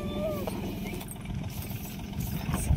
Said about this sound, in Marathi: इथं आम्ही खुरपत असताना फवारायला ट्रॅक्टर आलाय.